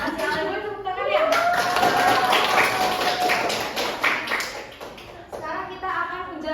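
A small group of classroom students claps during a mathematics microteaching lesson, brisk hand claps under children's chatter, with a voice talking over the clapping.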